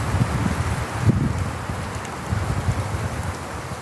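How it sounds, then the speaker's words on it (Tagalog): Strong wind roars through pine trees on a mountain roadside, a continuous gusty rush that rises and falls with low buffeting on the microphone and no voices. "Sobrang lakas ng hangin dito, mga kamotor lover"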